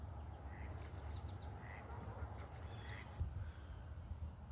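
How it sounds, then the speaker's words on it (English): Ducks and geese in a frosty autumn meadow give scattered quacks and honks, faint and distant, over a steady low outdoor rumble. "A couple of ducks in there."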